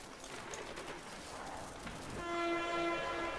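A train passes in Plants vs. Zombies: Garden Warfare Boss Mode, a rumbling rush that swells after two seconds into a loud, sustained horn-like tone, with no talk over it.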